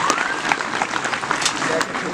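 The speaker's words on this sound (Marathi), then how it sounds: "जोरदार टाळ्या." Audience applause at a district-level sports competition for disabled athletes, a steady wash of clapping from a crowd with some voices mixed in, moderately loud throughout.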